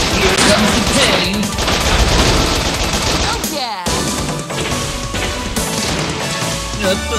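Loud gunfire from the Bot Vice video game, with rapid, dense bursts of shots and crashing impacts pounding nearly continuously, broken by a brief gap midway.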